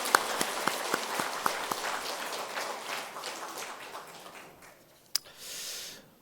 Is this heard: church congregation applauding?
yes